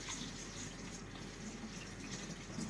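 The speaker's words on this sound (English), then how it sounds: "rice here in the colander. Got to do this first. Got to wash it out." Running water pours steadily over rice in a colander at a kitchen sink, a continuous close splashing rush with no pauses.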